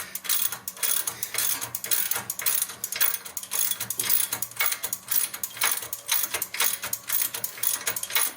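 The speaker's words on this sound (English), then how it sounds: "That one will need a wrench." Ratcheting wrench loosening an untorqued rear axle bolt on a 2018 Jeep Wrangler JL with broken rear axle shafts; fast, even clicking runs steadily throughout, close and fairly loud, with no talk.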